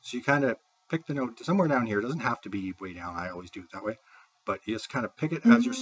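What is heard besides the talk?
No everyday noises stand out.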